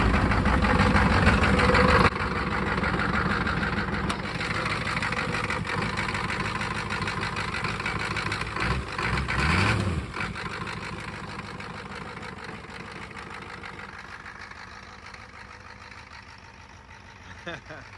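An old, slightly smoky diesel tow truck engine idles steadily and loudly with a rough, low rumble, easing slightly quieter over time.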